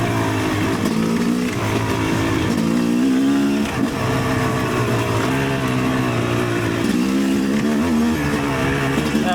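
An electric-start Yamaha YZ300 dirt bike is ridden, its two-stroke engine droning loud and close throughout, rising and falling in pitch as the throttle opens and eases off.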